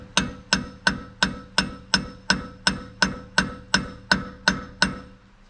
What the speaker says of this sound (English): it's gonna hurt the brass drift, and it's not gonna hurt your threads or your nut